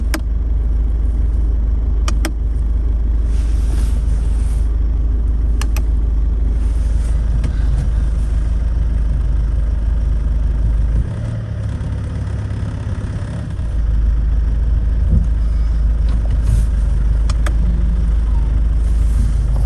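A 2017 Ford Kuga mk2 engine runs steadily during a brake test, a loud constant low rumble with a brief change in tone partway through and a few faint clicks, no talking.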